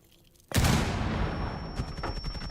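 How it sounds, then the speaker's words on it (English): Frag grenade detonating in a competitive video game match: a sudden loud blast after a quiet start, followed by a long rumbling decay with a thin high ringing tone and faint rattling. "Frag is out."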